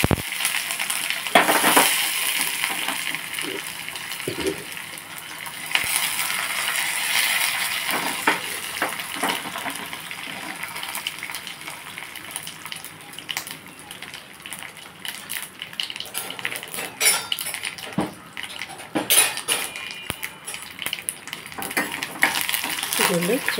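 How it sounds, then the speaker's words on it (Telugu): Mustard seeds, cumin, curry leaves and dried red chillies for rasam tempering crackle and sizzle in hot oil in a pan, with scattered sharp pops, metal clinks and stirring scrapes throughout. "ఇదిగోండి, చారుకి పోపు పెడుతున్నాను"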